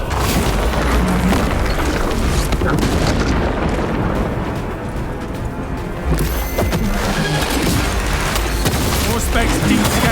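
Melta bomb detonation amid a battle against Tyranids in Warhammer 40k: Space Marine, a dense, loud roar of booms and blasts that barely lets up for ten seconds, with voices mixed into the din.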